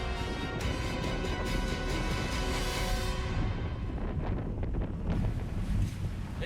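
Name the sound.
strong wind and waves at sea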